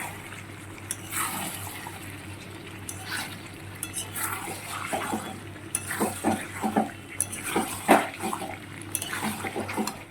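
Raw meat being kneaded and mixed with spices by hand in a home kitchen, wet squelching and slapping in irregular bursts with occasional clinks of a bowl, growing busier toward the end.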